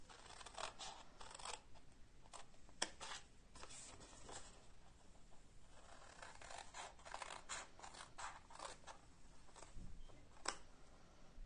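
Scissors snip through folded paper in quick repeated cuts, crisp close snaps in bursts with short pauses, quiet and alone in a calm room.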